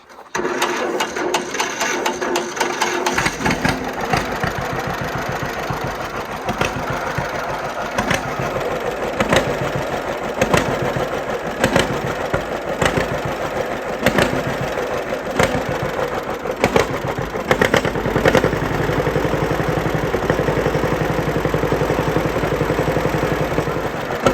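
A 1950 John Deere B tractor engine cranks, catches and settles into its steady, loud two-cylinder putter, with evenly spaced firing pulses running close by for the remainder.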